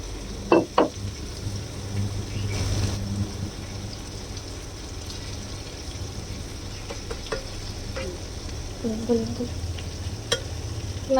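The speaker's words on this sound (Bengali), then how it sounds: "এবার ফ্রাই প্যানে দিয়ে দিলাম ডিম ভাজিটা, আলু দিয়ে ডিম ভাজি" Potato and egg fry sizzles in a frying pan over high heat, a steady crackle broken by a few sharp clatters of stirring at the start and scattered utensil taps later on.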